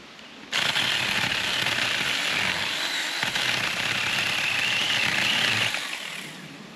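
A SAKER chainsaw cuts down saplings outdoors, its engine snarling loudly and steadily for several seconds before tapering off at the end, with no talking.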